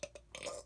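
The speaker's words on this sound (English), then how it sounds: "That was a weak burp." A single weak burp, quiet and brief, made of a couple of short guttural pulses followed by a slightly longer rasp, close to the microphone with no talking.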